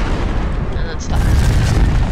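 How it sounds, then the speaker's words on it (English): A nuclear bomb explodes in Garry's Mod, a deep rumbling boom that swells midway and keeps roaring heavily. "Now, that was a nice explosion."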